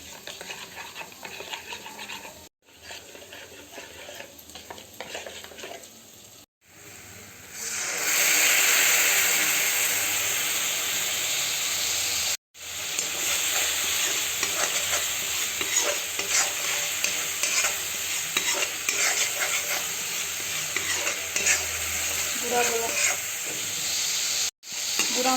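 Ground spice paste (garam masala, salt and other powdered spices whisked with water) frying and being stirred in a pan for an egg masala curry; steady loud sizzle with scraping stirs, a few brief pauses, no talk.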